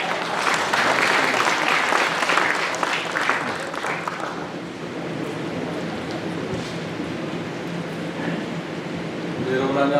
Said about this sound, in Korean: 최민호 시장님 큰 박수로 모시겠습니다.